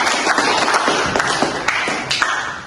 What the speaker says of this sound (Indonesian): Tepuk tangan dulu buat Alda